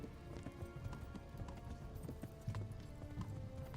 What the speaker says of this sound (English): This horse is low-key really hard to drive.